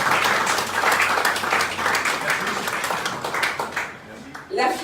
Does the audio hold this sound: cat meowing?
no